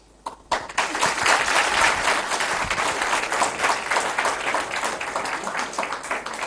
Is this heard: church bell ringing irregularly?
no